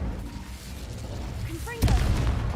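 A fire spell is cast in Hogwarts Legacy on hard mode: a short burst that flares with a boom near the end of a brief stretch of game noise, with a spoken voice present.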